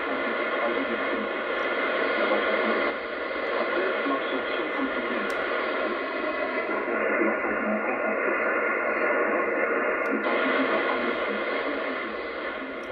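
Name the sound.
shortwave radio broadcast, AWR French via Austria, 17570 kHz, fading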